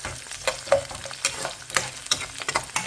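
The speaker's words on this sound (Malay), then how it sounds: "Bawang putih ni kita akan goreng dia sampai dia garing gitu ya." Garlic frying in a pan until crispy, with bright sizzling and intermittent stirring scrapes and clinks, close and fairly loud, with no talking.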